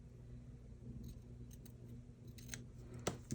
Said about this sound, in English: I think I'm going to trim away some of the netting on this